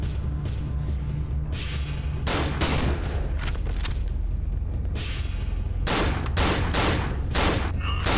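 Gunfire in the survival horror video game Cry of Fear: several separate loud gunshots spaced irregularly, some in quick pairs, over a constant low background hum.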